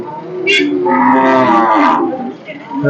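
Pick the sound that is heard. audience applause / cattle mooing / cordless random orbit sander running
cattle mooing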